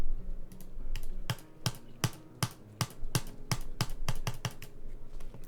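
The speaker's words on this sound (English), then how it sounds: "You could hear the clicking, right?" Loud, sharp mechanical clicks repeat in a fairly steady rhythm of about a dozen close, percussive taps, like keys or a switch pressed hard near the mic, with no talking.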